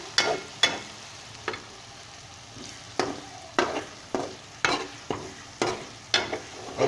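Garlic and golden onions frying in a pan, a soft steady sizzle broken by regular scraping stirs of a spoon, close and clear with no talking.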